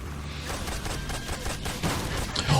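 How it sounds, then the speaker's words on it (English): Gunfire in Metal Gear Solid 3, a rapid close volley of shots blending with jungle ambience throughout a short burst. "I do now need to shoot the log."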